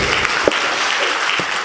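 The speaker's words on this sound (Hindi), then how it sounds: "एक बार जोरदार तालियां इस बच्चे के लिए।" Audience applause at a public gathering, a steady wash of clapping that stays loud and dense throughout the short stretch, with no speech over it.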